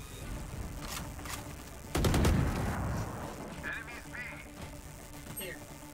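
Gunfire bursts in a video game match, a loud broadband crack near the two-second mark followed by scattered shots, with quacking-like game effects and background chatter around it.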